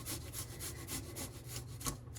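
Garlic grated straight into a bowl makes a quiet, rhythmic rasping, about ten quick strokes close by with no talking.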